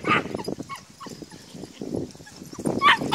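A mother dog runs and plays with her puppies, giving off short barks, yips and whimpers in quick bursts amid scampering, fairly close and moderately loud.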